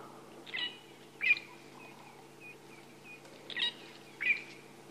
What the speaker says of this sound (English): a fork-tailed drongo in the background, chirping away